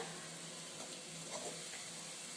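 Pakodi dough pressed through a wooden mould into hot oil and frying in a pan, a steady dense sizzle and hiss heard close and alone.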